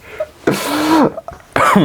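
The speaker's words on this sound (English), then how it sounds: "I'm gonna have a coughing fit" A burst of harsh, close coughs, three or four loud hacks with short gaps between them, no talking.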